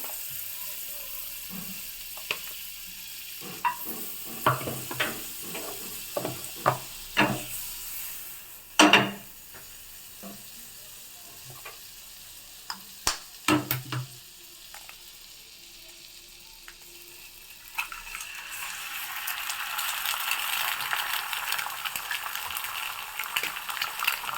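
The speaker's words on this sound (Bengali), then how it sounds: "একটু বাটার দিয়ে পোচটা বানিয়ে দেবো।" An egg poach cooks in butter in a pan; scattered clicks and clattering knocks of cookware come first, then a steady, fairly close sizzle rises and fills the final stretch, with no talking.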